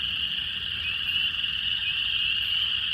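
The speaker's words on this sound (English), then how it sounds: "Okay, we got a peeper." Spring peeper frogs call in Missouri in spring, a continuous high, shrill peeping chorus that stays steady and fairly loud, heard alone with no voices.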